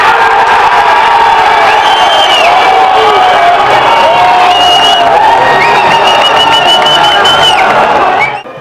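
A football crowd at a Taça FPF Sub 23 match between Rio Branco and Cascavel roaring and cheering a goal in the rain, a dense, loud, sustained wall of shouts and whoops with rising voices throughout, then cutting off abruptly.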